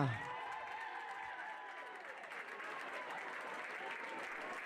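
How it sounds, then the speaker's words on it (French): Steady, dense applause from a crowd at a pony eventing awards ceremony, honouring a vice-champion team, sustained and even throughout with a faint voice at the very start. "On les applaudit, les Bad Buzz"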